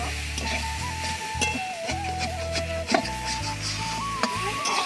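Mahua fruit fries in a pan with a soft, steady sizzle, broken by scraping stirs and light utensil knocks against the pan, fairly quiet and close.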